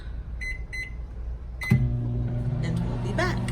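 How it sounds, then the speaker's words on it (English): A microwave oven steaming eggs in a plastic chicken-shaped egg boiler beeps as its keypad is pressed, then its motor starts with a steady, close hum. "So I'm gonna put these in the microwave."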